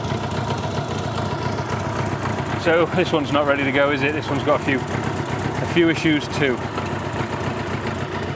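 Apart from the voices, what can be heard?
Honda Goldwing motorcycle engine idling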